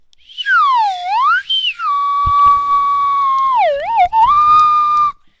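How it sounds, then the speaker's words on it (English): A slide whistle plays alone, its pitch swooping down and up, then holding steady tones with a wobbling dip before stopping. "Yeah, I got a slide whistle now."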